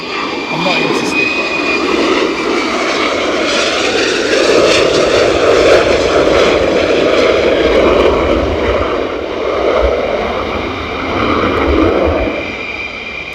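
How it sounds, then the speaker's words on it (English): F-35 Lightning II jets fly in at RAF Lakenheath, a loud, close, rumbling jet roar that surges and fades in waves, with a voice speaking over it. "There's quite a lot of F-35s inbound."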